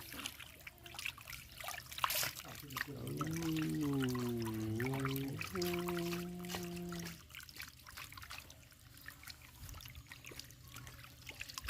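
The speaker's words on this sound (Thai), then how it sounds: "ล้างให้สะอาดนะครับ" Salted fish being rinsed and washed with water, quiet trickling and splashing with a few sharp knocks, briefly overlaid by a sustained tonal whine before the water sounds continue.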